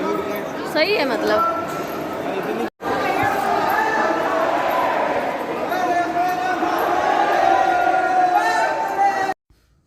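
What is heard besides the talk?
dense crowd chatter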